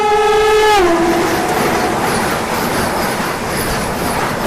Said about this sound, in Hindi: यहाँ पे आप लोगों ने देखा कैसे इंडियन रेलवेज में एक साथ दो मालगाड़ियों को जोड़ करके चलाया जाता है